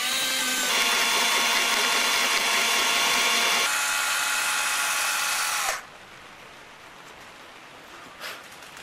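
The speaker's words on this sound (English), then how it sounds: "we're going to give it a nice firm support for drilling." A power drill whines loudly and continuously for several seconds while drilling holes at punch marks, its pitch shifting once, then stops abruptly, leaving a quiet room with a faint click.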